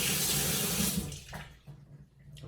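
Celery being washed under a running kitchen tap: a steady, close rush of water into a sink that thins out partway through, leaving softer splashes and trickles.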